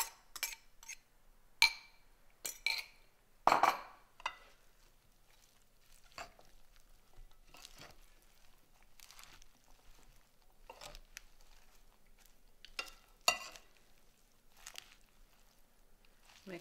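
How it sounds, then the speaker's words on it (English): Kale and quinoa salad being tossed and mixed in a bowl, heard as a few faint, scattered clinks and soft knocks of utensils against the dish, sparse and quiet with long gaps between them. "throw this onto our salad and mix it in some more."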